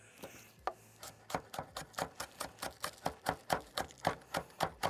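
A cleaver-style knife chops a somewhat wilted spring onion on a board at a camp, giving a steady run of about a dozen crisp, evenly spaced close taps that quicken slightly toward the end.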